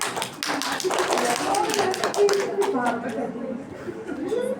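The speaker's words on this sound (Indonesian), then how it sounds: "Tepuk tangan." A classroom audience claps together in a brisk patter of hand claps, moderately loud, with students chattering and voices mixed in throughout.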